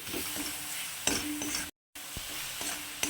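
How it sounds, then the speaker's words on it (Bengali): Grated coconut filling with ground cardamom stirs and fries in a pan for Odisha's kakra pitha, a steady soft sizzle broken by a few clinks of a spoon against the pan and one brief silent gap. "এবার আর একটুখানি ভাজা করে নেব আমি"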